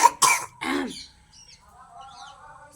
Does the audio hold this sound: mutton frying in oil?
no